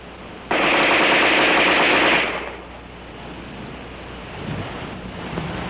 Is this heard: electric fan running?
no